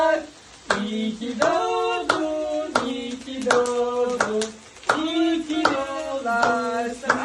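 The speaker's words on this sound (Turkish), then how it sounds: "Bir alkış yaptılar." A group claps in bursts of rhythmic hand claps at a child's birthday celebration, with short pauses between rounds and voices singing or calling along close by.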